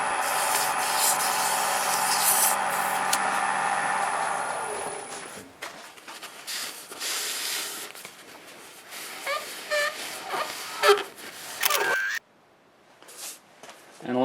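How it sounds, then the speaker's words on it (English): Sandpaper rubs against small wooden beads spinning on a lathe, giving a close, continuous hiss that changes in texture and intensity, with a brief quieter gap near the end. "you can pretty much just sand them right into submission"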